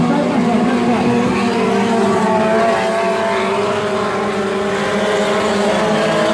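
Race car engine roaring continuously at a mud racing track during a summer tournament heat at the Jacaraípe barródromo, loud and sustained with engine harmonics under faint crowd noise.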